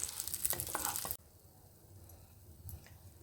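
Mustard seeds and urad dal sizzle and crackle while being roasted in a pan, loud and close for about a second. The sound then cuts to a faint background with a few small pops.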